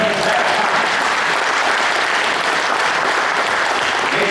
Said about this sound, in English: Let's give this young man a hand clap.